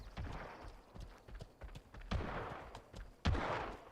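Gunshots in the video game Legend of California, several sharp reports spaced unevenly, the last two loudest, over a low rumble with muffled thuds between them.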